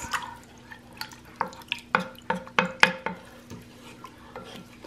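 Minced garlic and salt are stirred in a pot while cooking rabbit jambalaya. A spoon gives soft, close clinks and scrapes against the pot in an irregular run of taps, fairly quiet overall.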